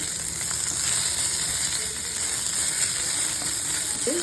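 Curry leaves frying in hot oil alongside dried red chillies for a village-style mutton masala, a dense, even hiss of sizzling that holds steady throughout, close and fairly loud, no voices.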